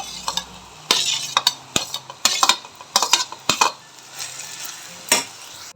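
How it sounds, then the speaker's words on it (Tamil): A spoon stirs cooked rice into a coriander mixture in a pan, a run of close scraping and clinking strokes at an irregular pace over a soft background sizzle. "சேர்த்துட்டு நல்லா கலந்து விட்டுருவோம்"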